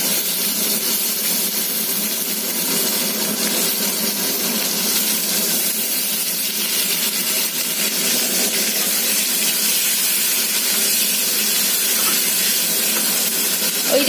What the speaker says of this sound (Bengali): এবার আমি এর মধ্যে দিয়ে দিচ্ছি কেটে রাখা টমেটো।